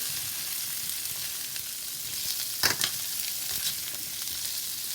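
Food frying in a pan sizzles with a constant dense hiss, broken by a few brief scraping stirs in the middle, close by and without voices.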